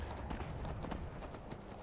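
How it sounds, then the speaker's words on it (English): Horse hooves clip-clop in a quick steady rhythm in modded Skyrim, close and fairly loud over a noisy background, no speech. "Going to town on that horse."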